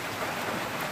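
The first rain of the year falls on a village as a steady, dense hiss of drops, even and unbroken, with no voices.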